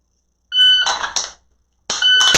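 During a dry fire pistol drill, a shot timer sounds two loud, sharp electronic beeps separated by a short silence, with nothing else audible.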